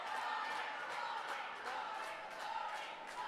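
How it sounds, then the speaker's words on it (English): A crowd roars and cheers steadily at a roller derby bout, a dense wash of many distant voices with no break. "The crowd is cheering."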